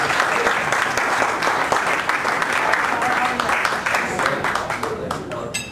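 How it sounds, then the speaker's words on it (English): An audience gives a big round of applause at a talk event, with dense sustained clapping throughout and some cheering and scattered voices mixed in. "let's give Brad Mann a big round of applause."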